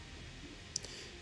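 A quick, faint double mouse click while editing in DaVinci Resolve, the two light ticks barely above a steady background hiss.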